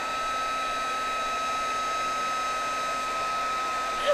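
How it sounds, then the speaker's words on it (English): A heat gun blows steadily on acrylic paint to make it bubble up in a mixed media painting, a loud, continuous whirring hiss of fan and air with a fixed tonal whine, running alone without pause. "take my heat gun and I'm gonna cause this paint to bubble up"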